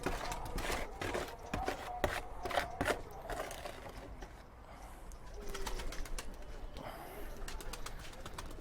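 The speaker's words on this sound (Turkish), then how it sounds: "Arkada da benim kuşlar benim hareketlerden etkilenip böyle aşağı yukarı düşüyorlar" Birds coo softly while wings flutter and flap in irregular bursts, with some knocking and shuffling nearby.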